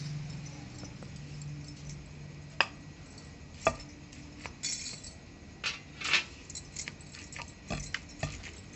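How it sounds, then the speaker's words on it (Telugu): Green chilies and black gram being pounded into a paste, giving quiet, irregular knocks and sharp clinks spaced a second or so apart over a low background hum. "పచ్చిమిరపకాయలు, మినపప్పు పేస్ట్ బాగా కలిసే వరకు రుబ్బుకోవాలి."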